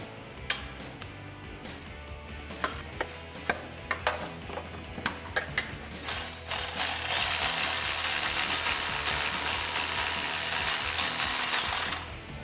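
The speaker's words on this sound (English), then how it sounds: "I have a 13mm socket on my ratchet. I'm gonna break it loose first and then switch over to a power ratchet" A hand ratchet with a 13mm socket breaks loose an exhaust clamp near the muffler of a Jeep Wrangler JL 3.6L, giving a run of sharp metallic clicks and knocks, then a steady loud whirring rush that continues for several seconds before stopping.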